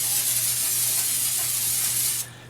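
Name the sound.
cooking spray sprayed into a loaf pan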